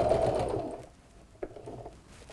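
A sewing machine stitches along the side of a fabric first aid pouch, a fast steady whir loud at first that fades and stops, followed by a faint click and light handling noises.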